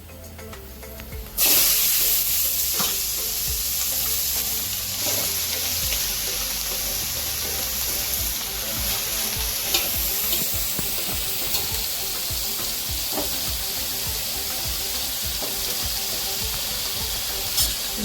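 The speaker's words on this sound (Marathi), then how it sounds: "मी त्याच्यात आता हे गाजर किसून घेतले टाकत आहे।" Grated carrots for gajar halwa hit a hot pan and start frying with a sudden loud sizzle, then keep up a steady crackling hiss while stirring scrapes through the pan.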